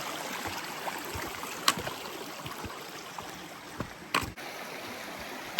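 A creek on a hiking trail in Kananaskis, Alberta, flows in a steady broadband wash with occasional brief louder splashes or knocks, heard close and alone without talking.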